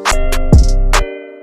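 A beat in FL Studio plays with a Gross Beat reverse effect, its drums and tones sucked backward in a short, loud burst with a deep swooping bass drop in the middle and an abrupt cutoff.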